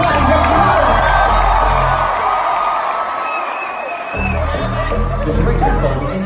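A concert crowd in Philadelphia cheers, whoops and shouts steadily throughout, loud and dense with chatter mixed in, dipping briefly near the end before swelling again.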